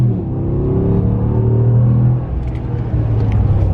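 The V8 engine of a Ram Rebel pickup truck roars as it accelerates hard, a deep steady rumble that shifts pitch briefly as it climbs, heard loud and close from inside the cab.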